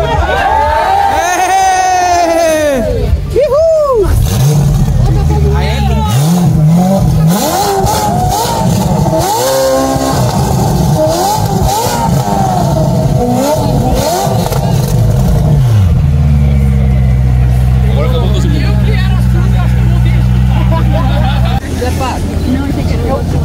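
A Ferrari sports car engine revs loudly and repeatedly up close at a street gathering of exotic cars beside a Lamborghini Aventador, its rising and falling engine notes mixed with excited crowd chatter and voices talking throughout.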